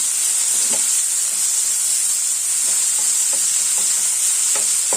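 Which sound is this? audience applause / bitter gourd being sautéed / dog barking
bitter gourd being sautéed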